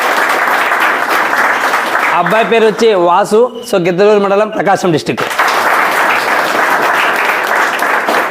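An audience breaks into loud, dense applause for students honoured at an academy for winning army jobs; the clapping runs continuously, drops back while someone speaks over a microphone, then swells again.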